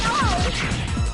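A meteor attack smashing through thick glass in the Mega Man 8 video game, a loud crashing burst with repeated low thuds and a descending whistling tone, continuous game audio throughout.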